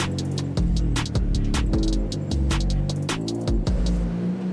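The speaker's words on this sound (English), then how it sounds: "All right, so we got the S14 on the ramp" Nissan S14 engine rumbling and revving in short pulses as it is driven onto a garage ramp, loud and close with repeated throttle blips and gear changes, no talking over it.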